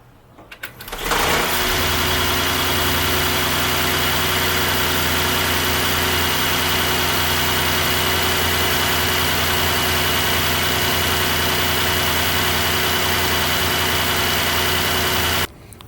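The V8 engine of a 2024 Mercedes-Benz S580 idles steadily and loudly for the whole stretch, a smooth even rumble starting abruptly and cutting off at the end.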